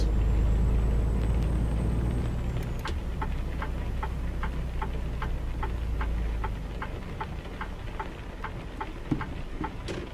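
Truck engine in the video game American Truck Simulator, a steady deep rumble that holds through the whole stretch, joined after a few seconds by a regular ticking like a turn signal clicking at an even pace.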